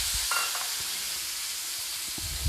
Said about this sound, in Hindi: अब मैं इसको अच्छी तरीके से ब्राउन होने तक भून लूँगी